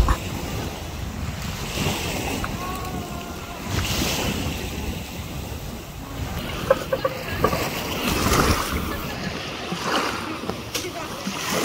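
Sea waves wash onto a beach in Bikol, where people are bathing in the cold water. The surf is a steady, near rush with wind buffeting the microphone and faint voices in the background.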